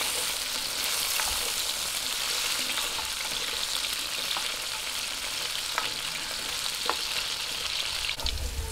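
Carrots fry briefly in a pan for pork kaldereta in coconut milk, giving a steady, close hiss of sizzling oil with a few faint clicks of stirring throughout, and no talking.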